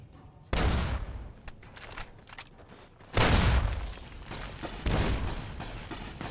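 Grenade blasts and gunfire erupt in an ambush in the video game Fallout: New Vegas, with heavy booming explosions at intervals and scattered shots between them, loud and close.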